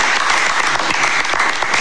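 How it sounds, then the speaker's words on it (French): Continuous dense applause from an audience at a broadcast event honoring a project, loud and steady for the whole stretch with no talk. "On peut applaudir quand même pour ce projet"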